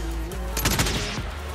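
Gunfire in the Call of Duty video game: a quick burst of several close, sharp shots over a steady game background.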